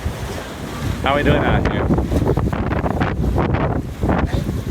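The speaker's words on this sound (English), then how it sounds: "We got anywhere up to 25 knot gusts, and we're moving along pretty good" Strong gusts of wind roaring over a sailboat moving at around seven knots, loud buffeting with splashing water beneath, while a person briefly speaks.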